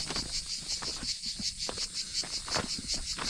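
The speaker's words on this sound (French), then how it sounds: "Les cigales, quand tu t'approches, elles se taisent." Loud cicadas chirping close by along a rural path, a dense high-pitched buzz that pulses in regular swells, with faint crunching steps beneath.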